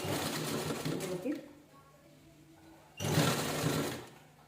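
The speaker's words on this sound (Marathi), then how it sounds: "व्यवस्थित फक्त एकसारखं स्टिच करून घ्यायचं" A sewing machine stitches lace onto a blouse in two fast whirring bursts, with a quiet pause between them and a voice talking softly over it.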